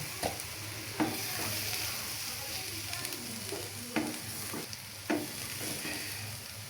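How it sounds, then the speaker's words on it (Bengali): Cooked vegetables are scooped from a pan into a bowl: soft sizzle underneath with a few sharp spoon scrapes and clinks spaced a second or so apart. "এখন আমার সবজি একটা বাটিতে তুলে নেব"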